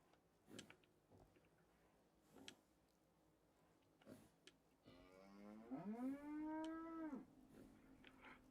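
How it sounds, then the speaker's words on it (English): A cow in the Fallout 4 video game gives one long, drawn-out moo, after a few soft scattered clicks and knocks in a quiet setting. "I definitely hear a cow out there."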